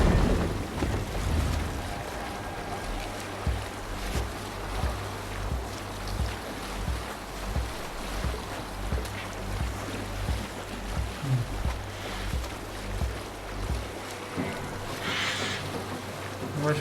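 Sailing ship at sea in Assassin's Creed Valhalla: steady rushing water and wind around the hull with a low rumbling drone, continuous and fairly quiet, with no talking.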